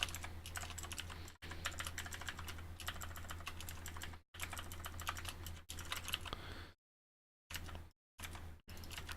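Fingers tap on a computer keyboard in quick, dense bursts of clicks, close and fairly quiet, separated by short pauses and a longer silence near the end.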